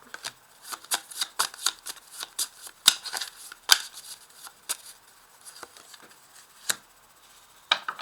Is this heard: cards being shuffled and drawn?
yes